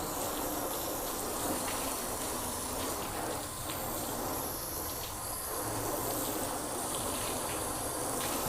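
A steady stream of water rinses down a car panel during washing, producing a continuous broadband hiss and splash that stays even in level throughout, with no voices.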